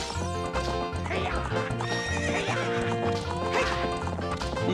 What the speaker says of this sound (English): And we have a horse race with Ingo.